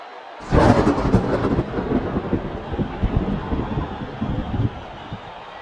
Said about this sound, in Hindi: बारिश ने डाला है खेल में खलल, अब थोड़ा सा करना पड़ेगा इंतजार।